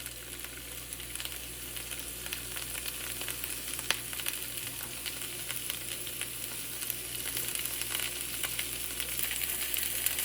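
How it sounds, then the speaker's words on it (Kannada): Broccoli and zucchini frying in about two spoons of oil, a soft continuous sizzle with light crackles and occasional stirring scrapes, fairly quiet and steady. "ಈ ಥರ 2 ಚಮಚ ಎಣ್ಣೆ ಹಾಕಿ ಇದನ್ನು ಹಾಗೆ ಫ್ರೈ ಮಾಡಿ"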